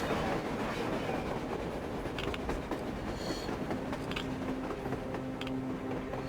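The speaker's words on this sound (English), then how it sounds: "A damn train on the surface!" A train rumbles steadily past on the surface in Metro Exodus, a loud continuous roar of rolling wheels with rhythmic clacking and occasional metallic squeals.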